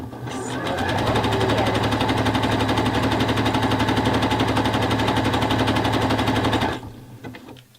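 Sewing machine stitching a lace longline onto bra fabric with about a 1 cm seam allowance, running as a steady rapid mechanical whir of needle strokes for nearly seven seconds before stopping abruptly, close and alone.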